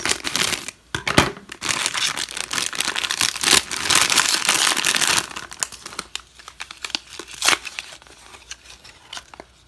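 Close, loud crinkling and tearing of plastic toy packaging, continuous at first, then breaking into sporadic rustles and scissor snips.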